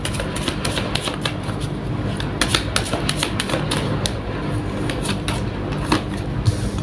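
Tarot cards shuffled by hand close up, a steady run of quick, crisp papery riffles and taps with no pauses, continuing for several seconds without voices.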